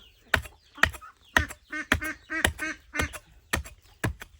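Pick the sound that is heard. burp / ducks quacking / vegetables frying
ducks quacking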